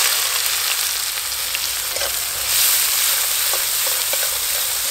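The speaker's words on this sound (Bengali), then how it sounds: "পেঁয়াজ লাল লাল করে ভেজে নিয়েছি" Chopped onions frying in oil with whole cumin in a pan for a fish kalia curry, a steady close sizzle with faint stirring clicks, continuous throughout with no talk.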